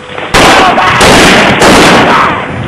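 Heavy weapon gunfire in a police shootout, loud sustained salvos in close succession with a short gap between bursts, overwhelming and near.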